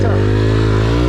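A Honda CBR 919 motorcycle engine roars loud and close with a steady, harmonic-rich drone held at high revs through the short burst, with no gaps.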